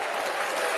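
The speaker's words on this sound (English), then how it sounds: "I love the applause." A brief burst of dense audience applause, steady and full throughout, with many hands clapping at once in a crowd.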